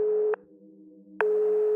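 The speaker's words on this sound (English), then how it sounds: "Dial tone." Steady telephone dial tone in the video game Lorelei and the Laser Eyes, a loud continuous electronic hum that cuts out briefly with a click and then resumes, heard alone.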